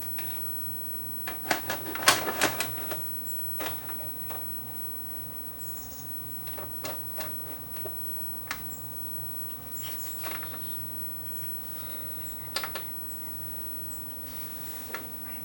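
An Emerson TV/VCR combo loads and runs a tape, giving faint scattered mechanical clicks and small whirring ticks, with a brief cluster of clatter early on, over a low steady hum.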